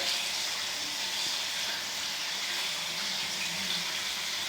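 A facial cleansing cloth is rinsed under a running tap, giving a steady, even hiss of flowing water close by, with no talking and no break in the flow.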